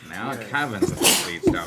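A sharp sneeze bursts out abruptly in the middle of an ongoing conversation, a loud, brief explosive sound cutting through the voices around it.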